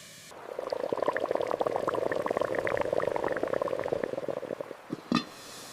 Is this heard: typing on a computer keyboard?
no